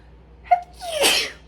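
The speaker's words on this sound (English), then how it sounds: "There's a sneeze." One sharp sneeze: a quick intake of breath, then a loud, airy burst, close and clear.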